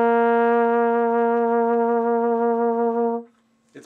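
Trombone holding one sustained note with a gentle jaw vibrato, a warm, steady tone that wavers slightly and then stops. A faint noise follows the note.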